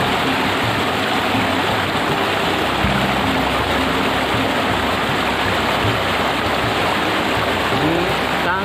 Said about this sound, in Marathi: अशी नदी आहे, तिला होलंबीची नदी अशी बोलतात